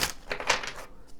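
A deck of Kipper cards being shuffled by hand, a quick run of crisp papery riffles and flicks close to the microphone, ending in a short pause and a final tap.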